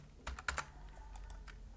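Quiet, close-up typing on a computer keyboard, a quick cluster of sharp key clicks followed by several scattered keystrokes in a soft room.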